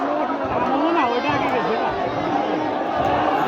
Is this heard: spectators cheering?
yes